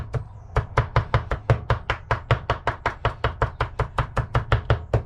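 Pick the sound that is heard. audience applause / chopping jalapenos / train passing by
chopping jalapenos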